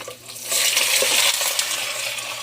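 Pork pieces drop into hot oil in a home kitchen pan and start frying at once, a loud bright sizzle that swells after a short clink and keeps hissing steadily, close up, with no talking.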